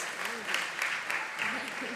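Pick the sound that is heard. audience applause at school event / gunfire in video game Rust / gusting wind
audience applause at school event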